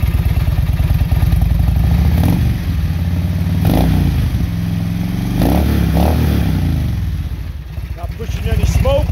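A 2006 Harley-Davidson Electra Glide with an 88 cubic inch V-twin engine rumbles close by, its loud uneven lope swelling in several throttle blips above a steady idle.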